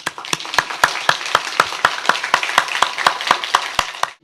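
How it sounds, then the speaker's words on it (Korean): A church congregation claps together in a steady, even rhythm of sharp, closely miked claps. About four beats fall each second, and the clapping stops abruptly. "우리 주님께 영광의 박수."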